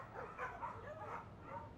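A voice actor imitates dogs barking for 101 Dalmatians, giving a few soft yipping bow-wows in quick succession, faint and slightly muffled.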